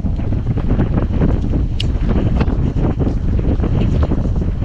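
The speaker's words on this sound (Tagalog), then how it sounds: "Grabe, lakas na ng hangin." Strong typhoon wind buffets and roars continuously, with heavy low rumbling gusts battering close by and no voices.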